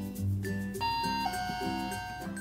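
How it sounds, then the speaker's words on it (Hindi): A toy dollhouse doorbell from a Peppa Pig Weebles locking house plays a short bright chime melody of ringing tones, close and clear, with no talking. "मैं घंटी बजाता हूँ।"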